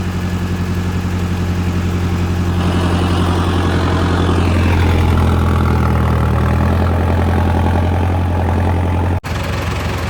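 A farm generator engine runs steadily with a loud, low droning hum that stays constant throughout, briefly cutting out near the end.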